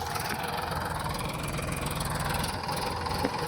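A tractor engine, about 18 years old, idles steadily with a low, throbbing rumble and faint knocking, no voices.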